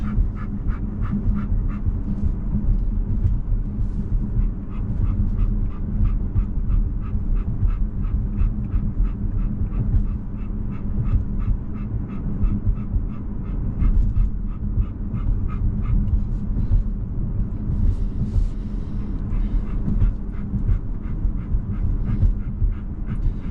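A dog pants heavily and steadily, close and loud, in fast rhythmic breaths that continue without a break, with faint whimpers now and then and no talking.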